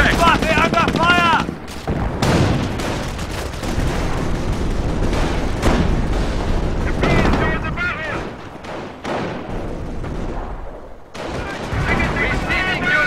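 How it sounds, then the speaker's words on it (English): In the World War II strategy game Company of Heroes, set during Operation Market Garden, dense, continuous gunfire and booming artillery pound away loudly with rapid bursts and heavy blasts, under a voice calling out. "They are under fire!"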